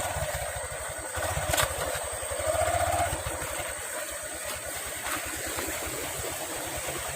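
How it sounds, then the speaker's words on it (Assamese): A motorbike engine putters steadily at low speed with a rhythmic knocking, rough and uneven, riding down a rough hill road, set against a wash of outdoor noise. "মোৰ লগৰটোৱে বাইক নি আছে।"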